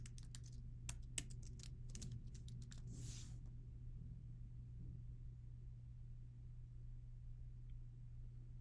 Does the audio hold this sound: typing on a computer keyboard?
yes